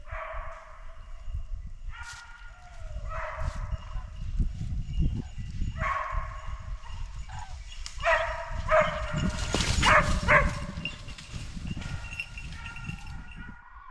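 Hunting dogs bark and yelp during a driven hunt, with bursts of barking coming at irregular intervals and several dogs calling over one another at moderate distance.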